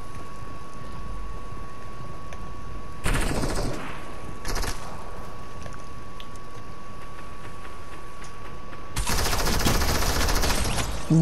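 Bursts of gunfire in the Fortnite video game, with two short volleys early on and a longer, louder burst near the end over a steady background hum.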